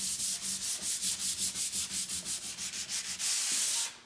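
Steady back-and-forth sanding strokes rasp over painted furniture, about twenty regular passes in a row, close and fairly loud, ending in a longer continuous scrub.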